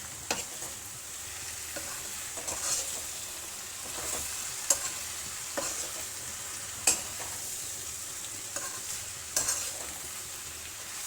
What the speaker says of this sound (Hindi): ये शिमला मिर्च डालेंगे, इसको मिलाएंगे।